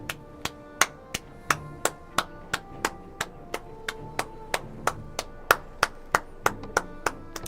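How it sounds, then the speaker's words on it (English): A single pair of hands claps at a slow, even pace, about twenty crisp claps in a row with no voices. "Round of applause."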